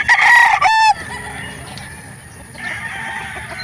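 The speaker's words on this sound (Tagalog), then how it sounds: "Tilaok ng tilaok eh." A gamefowl rooster of the Boston line crows loudly and close for about a second at a farm market, then the scene drops to a quiet background hum.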